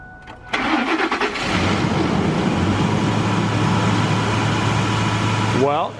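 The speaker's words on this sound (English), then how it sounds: "I'm gonna have Andre start it." A Ford F150 pickup engine cranks briefly, catches and settles into a steady mid-pitched idle, with a short voice near the end.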